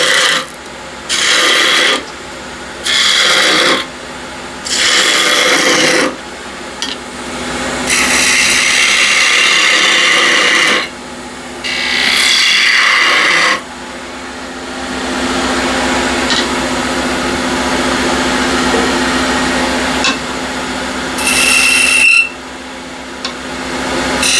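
Spindle gouge cutting spinning wood on a lathe while turning a spinning top, loud close bursts of rough shaving noise in short repeated passes, then longer sustained cuts with brief pauses between.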